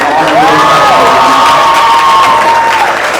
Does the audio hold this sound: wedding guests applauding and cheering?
yes